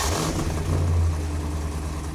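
An LS7 V8 converted to a wet-sump oiling system and fitted to a Corvette revs under load on a test stand, a loud, close, steady mechanical roar with a deep droning tone and no talk.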